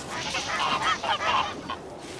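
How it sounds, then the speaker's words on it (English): Geese on a cooperative farm in North Korea honk in a short burst of several loud, close calls, then fall quiet. "Cooperative farms like this one, with its familiar ox carts, geese and ducks"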